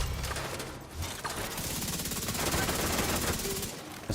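Rapid, continuous automatic weapon fire in The Division 2, mechanical and rattling, steady and loud throughout with a brief lull near the start.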